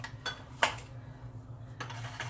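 A spoon clinks against a measuring cup while egg and milk are stirred into cornbread mix, a few sharp taps and scrapes, one louder knock, close up with no talking.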